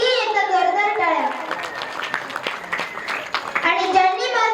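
At a village kirtan led by a young girl performer, an audience breaks into a burst of clapping that swells in the middle, with a voice speaking before and after it.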